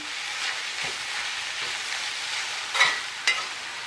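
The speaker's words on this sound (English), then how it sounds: "Give it a good stir." Food frying in a large pot over medium-high heat being stirred, a constant close sizzle with scraping spoon strokes and two sharper clinks near the end, no talking.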